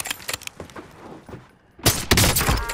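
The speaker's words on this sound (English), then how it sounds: "Under hostile fire." Video game gunfire under hostile fire: a quieter spatter of distant shots, then a loud close burst of rapid firing that sustains to the end, with no speech over it.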